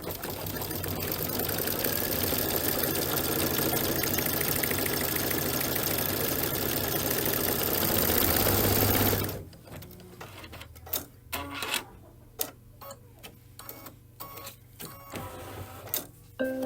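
An embroidery machine stitches a Kimberbell paisley belt bag, running with a loud, rapid mechanical whir for about nine seconds before stopping, followed by quieter intermittent clicks and handling taps.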